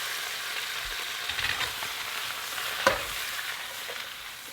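Mushrooms sizzle in olive oil in a pan with a steady frying hiss, broken by a few soft stirring scrapes and one sharper clack near the end.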